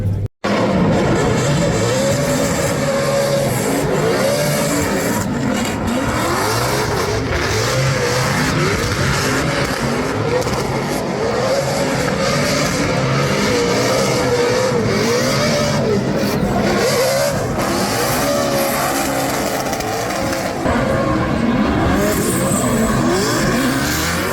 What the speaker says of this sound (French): on va juste sortir une coupe d'extraits des voitures que j'aime